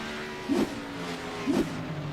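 Simulated stock cars in an iRacing Cup Series race at Watkins Glen, two engine passes swelling briefly over a steady droning roar of the running field.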